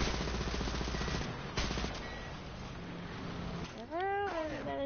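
Rapid video-game gunfire rattles in a steady burst aimed at an enemy vehicle's engine, then gives way to a rising electronic whine, all fairly close and loud.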